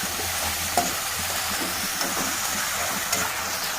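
A ridge gourd and bean seed curry seasoned with salt and turmeric is stirred in a hot pan, giving a close, continuous sizzle with soft scrapes and a few light knocks of the spoon.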